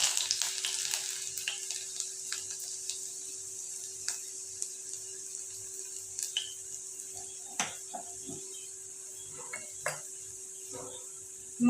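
Garlic sizzling in a little hot oil in a kadhai after mustard seeds have popped, a steady bright frying hiss with scattered crackles and pops, close and continuous, with occasional spoon and pan clinks.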